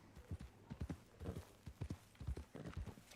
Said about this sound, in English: Oh, I wanted to feed my horse